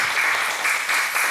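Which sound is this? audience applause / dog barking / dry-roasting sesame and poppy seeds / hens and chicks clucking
audience applause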